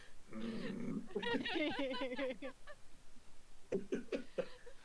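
A person's voice imitates an angry dog, growling and snarling in a strained, guttural run, then a few short barking bursts after a pause, with people around.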